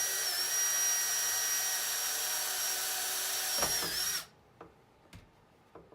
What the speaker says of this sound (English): And don't drill too close to the edge.